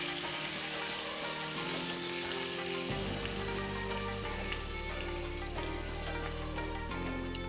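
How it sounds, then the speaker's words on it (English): Steady, loud sizzling of chicken searing in a hot pan, a continuous crackling hiss close by with no talking. "get myself a nice hot pan to sear"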